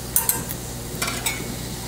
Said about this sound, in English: once you get it to that rapid boil, you're going to add your chocolate chips